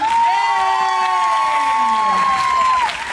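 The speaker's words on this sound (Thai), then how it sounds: "ขอเสียงปรบมือกับทีมงานทุกคนครับ" A crowd at a wrap-up party for the Thai series Ugly Duckling applauds and cheers loudly and continuously, with whoops and shouted voices rising over the clapping.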